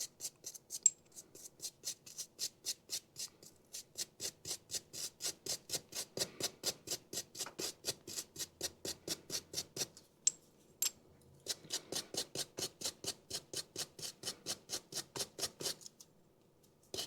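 Rust being scrubbed off the bearings of a Toro Super Recycler lawn mower, a steady run of rapid, evenly spaced rasping strokes close by, with a couple of brief pauses and no voices.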